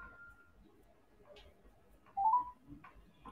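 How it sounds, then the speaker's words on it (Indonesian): A telephone call connects with soft regular ticking and a short electronic chirp and tone, faint and quiet, without speech. "Coba telepon Jepan lagi ya"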